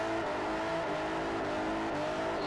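In the Forza racing game, a heavy Bentley Continental SuperSports heats its tyres with a sustained engine drone that stays steady and prominent throughout.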